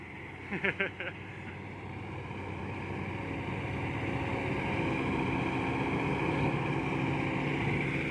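Ten-wheel dump truck pulling away on a freshly graded dirt road, its engine rumbling steadily and growing slightly louder as it moves off, after a brief burst of voices at the start.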